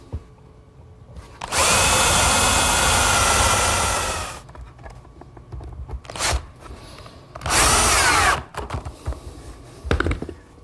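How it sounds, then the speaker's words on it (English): A power drill bores screw holes through a wooden shelf set in a dado on a chop saw station. There is one long whirring run, then shorter bursts and a second strong burst, all loud and close with workshop clatter in between. "Drill a few holes for some screws."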